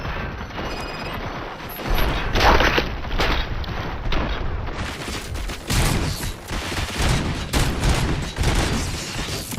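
Heavy gunfire in RoboCop: Rogue City, a dense fusillade of automatic shots and booming blasts hammering continuously for nearly ten seconds, loud and close with no talk over it.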